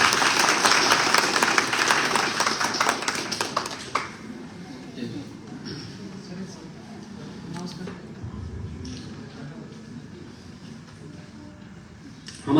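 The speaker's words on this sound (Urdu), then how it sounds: "سر کے لیے ایک مقدار زوردار تالی" Conference audience applause for a speaker, a loud burst of clapping for about four seconds that then fades to scattered claps and room noise.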